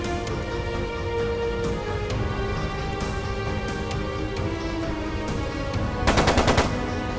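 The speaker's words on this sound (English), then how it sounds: "It sounded like a machine gun." Bursts of automatic machine gun fire in the Trails of Cold Steel 2 video game, rapid repeated cracks over a busy game soundtrack, growing denser and louder near the end.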